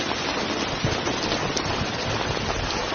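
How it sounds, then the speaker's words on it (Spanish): Steady rain falling on surfaces at night, a continuous dense patter with no voices over it. "Es que está lloviendo."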